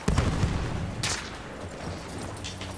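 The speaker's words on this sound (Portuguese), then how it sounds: "Meu Deus, tiroteios aqui." Gunfire crackles in a Battlefield 1 beta battle: a burst of shots opens the moment, another sharp report follows about a second later, and then a rumbling combat backdrop continues.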